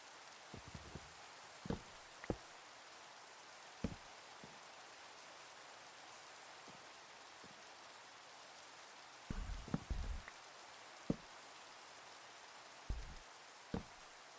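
Steady soft rain hisses in a video game world, a faint even wash with scattered low knocks and clicks over the top and no thunder.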